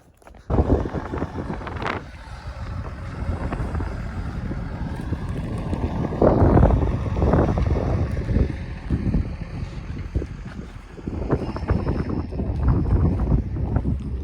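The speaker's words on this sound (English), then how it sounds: "got to get out of the wind. It picked up this afternoon, but Cooper's just unloading this straw here" Strong afternoon wind buffeting the microphone outdoors during straw hauling, a continuous loud roaring rumble with gusty surges and rustling, no voices.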